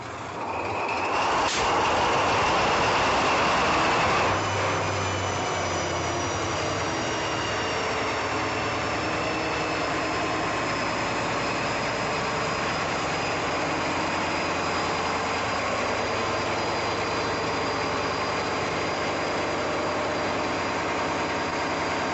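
A large ship engine runs loudly and continuously in the engine room, a heavy droning rumble with steady mechanical whine that persists throughout without change.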